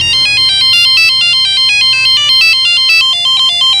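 A loud electronic phone ringtone plays a bright repeating melody of beeping tones, cycling over and over without pause.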